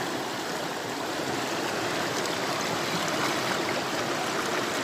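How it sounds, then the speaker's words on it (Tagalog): Creek water flows steadily at Biyaan, Marbeles, a continuous broad rushing and gurgling wash that stays even and fairly loud throughout, with no voices over it. "May sapa."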